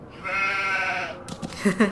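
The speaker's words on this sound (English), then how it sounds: "Oh, hello, sheep." A sheep in a Nancy Drew video game lets out one long, loud bleat at close range. A person's voice follows briefly right after it.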